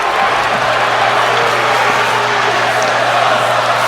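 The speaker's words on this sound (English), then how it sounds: "you can hear the crowd chanting, "This is awesome."" Wrestling crowd at an opening contest cheering and chanting, a dense, loud roar of many voices sustained throughout the short stretch.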